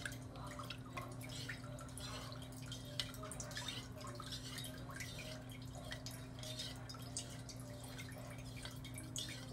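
Homemade green water trickles and drips past clumps of algae, a faint, steady run of small liquid ticks and splashes over a constant low hum for nearly ten seconds.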